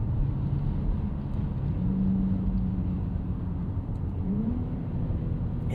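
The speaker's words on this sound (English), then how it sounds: "And you get the odd pop and burble on the over rev." A 2025 Audi SQ5 with a turbo V6 drones steadily from inside the cabin, a low engine rumble rising and falling slightly with revs throughout; no distinct pops stand out.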